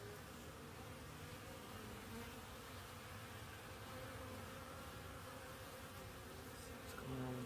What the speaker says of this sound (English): there are a bunch of bees that are coming in that don't have pollen